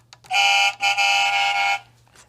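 Toy fire truck horn on an Agora Models FDNY Ladder 9 model blares as two close, loud electronic honks, a short blast followed by a longer one.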